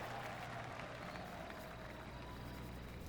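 Golf crowd in PGA TOUR 2K23 giving a polite golf clap, heard as a soft, diffuse patter of applause under a steady hum and background crowd noise.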